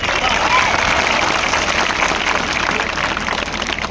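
A large crowd at an outdoor student protest against exam paper leaks claps together, producing a loud, dense, steady roar of applause that runs the whole time.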